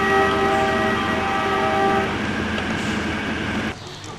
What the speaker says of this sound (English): Oh, more trains. Tankers, maybe.